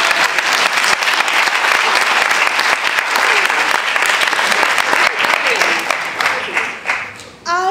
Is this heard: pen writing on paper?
no